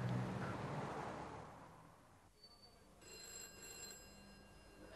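A telephone rings and is left ringing for a while, its bell tone bright and sustained over a background of low rumble and hiss, with no voices.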